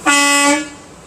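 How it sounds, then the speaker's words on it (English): A single loud air horn blast from a 2026 Kenworth truck, about half a second long, strong and close, then stops abruptly. "So next is my air horn"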